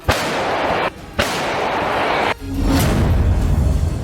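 Russian troops' artillery shelling enemy positions: sharp, heavy blasts at the start, near 1.2 seconds and near 2.4 seconds, each followed by a loud, sustained rumble and roar.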